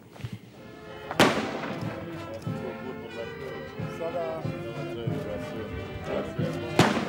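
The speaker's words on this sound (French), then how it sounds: "21 coups de canon pour célébrer l'amitié entre le Burkina Faso et Guinée équatoriale" Two sharp booming blasts several seconds apart, echoing over a murmuring crowd and voices, from a 21-gun ceremonial cannon salute fired outdoors in Burkina Faso.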